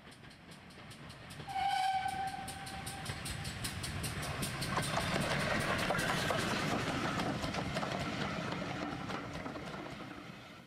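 A G scale model train runs steadily on an outdoor garden railway, with rhythmic clicking over rail joints and a brief whistle-like tone near the start, continuous and fairly close.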